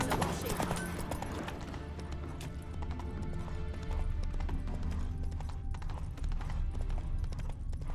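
Horse hooves trot steadily and loudly on the ground in The Witcher 3 Next Gen, with a rhythmic clip-clop over a dense backdrop of game ambience and music.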